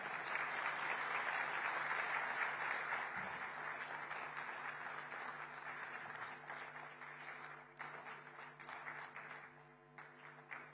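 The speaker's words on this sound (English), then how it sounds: "let that applause continue" At an Indo-American Chamber of Commerce national convention in Mumbai, a hall audience applauds warmly after a speech by the Chief Minister of Maharashtra. The clapping is dense and steady, then gradually softens and thins toward the end.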